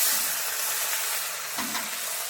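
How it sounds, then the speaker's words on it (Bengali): Ginger hits hot oil already seasoned with turmeric and sizzles steadily up close, with a stir or clatter partway through. "এবার আমি আদাটা দেব,"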